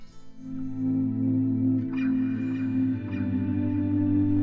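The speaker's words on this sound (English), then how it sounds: "if I just play it without the raked harmonics, it kind of sounds a bit like this" Sustained electric guitar volume swells with delay fade in smoothly and hang with a soft, echoing tail; steady tonal notes with faint chiming accents, no talking.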